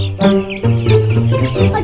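Chickens cluck loudly and close by in a quick, continuous run of calls with no voices over them.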